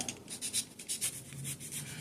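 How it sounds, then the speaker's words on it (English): An X-Acto knife slices through dryer lint fire starters, giving quiet, close scratchy cuts in quick irregular strokes. "X-Acto knife and cut them apart"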